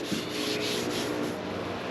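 Continuous, close abrasive rubbing of sanding across a 1966 Lincoln car body panel, with a rhythmic back-and-forth swell in the hiss.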